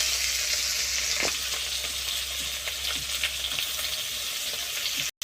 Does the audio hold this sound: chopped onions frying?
yes